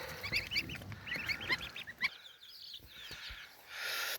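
Several tame geese honk in a noisy, overlapping cluster nearby, calls coming in quick bursts, followed by quieter rustling and a brief hiss.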